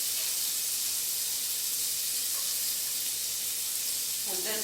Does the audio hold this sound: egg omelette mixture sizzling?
yes